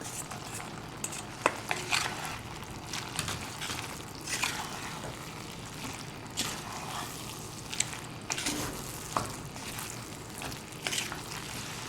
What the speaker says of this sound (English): Stir this around, and we're going to be bringing our pasta.